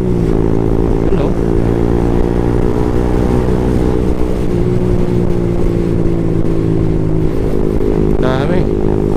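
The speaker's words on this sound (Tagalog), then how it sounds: "Daming motor." Motorcycle engines drone steadily and loudly along a road in the Philippines, a sustained mix of many bikes running together, with a brief rising rev near the end.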